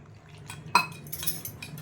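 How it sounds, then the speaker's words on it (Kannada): A spoon scrapes and clinks against a bowl, with one sharp knock and a soft wet churning as thick tomato bhaji batter is stirred with water. "ಈಗ ಇದನ್ನು ನೀರು ಹಾಕಿ ಕಲಸ್ಕೊತೀನಿ ನೋಡಿ ಚೆನ್ನಾಗಿ ಮಿಕ್ಸ್ ಮಾಡ್ಕೊತೀನಿ"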